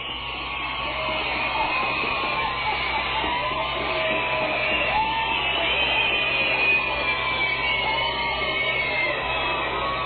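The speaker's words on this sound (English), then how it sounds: "Elementary Education Day here at the Epicenter. That's why the crowd noise is about an octave higher than normal" A minor-league baseball stadium crowd at the Rancho Cucamonga Quakes' Epicenter, packed with elementary schoolchildren, keeps up a steady, high-pitched roar of shrieks and cheering throughout, dense and continuous.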